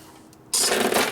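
Old Harley-Davidson panhead motorcycle chain being handled, a short burst of dense metallic rattling and jingling that starts abruptly halfway through after near silence, close and fairly loud, with no talk.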